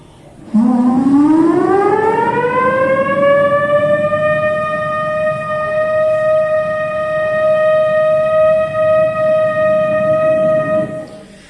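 A civil defense siren winds up from a low groan to a loud, steady wail that holds for several seconds without pause.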